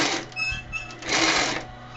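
A sewing machine back-stitches a fabric gusset in two quick bursts of close, rapid needle chatter over a faint motor hum.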